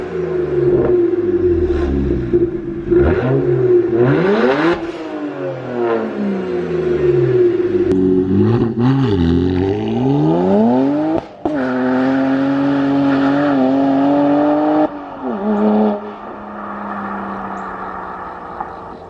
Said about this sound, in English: When you put catless downpipes on this car, the sound of the turbo spool is just like intoxicating